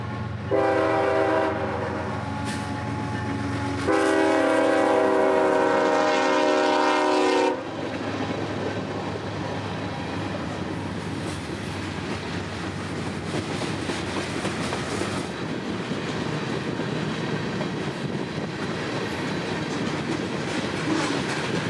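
Freight train 492 on the A Line sounds long horn blasts, then rumbles past close by with steady wheel clatter and rattling cars that carry on to the end.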